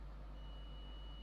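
A multimeter's continuity buzzer gives a steady thin high tone when the probe tips touch, faint against a loud low hum and hiss.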